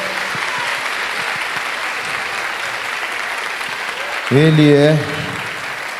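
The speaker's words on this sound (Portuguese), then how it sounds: "Você pode aplaudir Jesus?" A church congregation at a family worship service applauds in a steady, dense wash of clapping that fills the whole stretch, with a voice speaking over it near the end.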